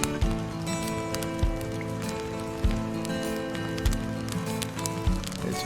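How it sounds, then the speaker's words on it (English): Steady patter of rain on a surface in the video game Farm Manager 2022, joined by a regular soft thudding every second or so, with a tonal music-like hum behind it. "It's raining."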